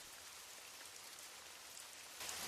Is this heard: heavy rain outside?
yes